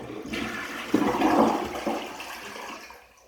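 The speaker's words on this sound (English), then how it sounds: "We've refilled the water, now let's try flushing." A toilet flushes using water poured by hand into the tank: a surge of rushing water that peaks and gurgles, then drains away and fades to quiet near the end.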